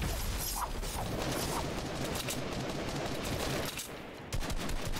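Scattered gunfire and clattering mechanical weapon sounds from the Fortnite battle royale video game form a dense, continuous layer, with a brief dip near the end before the noise returns.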